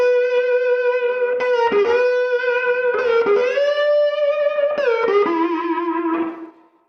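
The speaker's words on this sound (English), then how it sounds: "when you apply a vibrato, the vibrato travels above and below" Slide guitar notes ring out with wavering vibrato, sustained tones that slide between pitches before fading out at the end, played alone and clearly.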